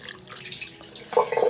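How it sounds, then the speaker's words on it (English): Water splashes and drips as it is poured over a woman, soft trickles at first, then a brighter, louder splash of pouring near the end, close by. "I am pour water on myself"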